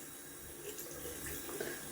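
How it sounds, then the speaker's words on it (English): Cold tap water runs steadily from a faucet to wet a Bambaw double edge safety razor, a faint, even splashing hiss without pauses. "Just wet the razor there in cold water."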